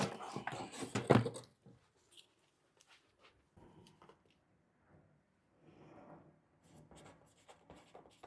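A pen scratches out plant labels by hand for freshly sown seed pots, soft and intermittent after a brief louder rustle, with faint quiet gaps between short strokes.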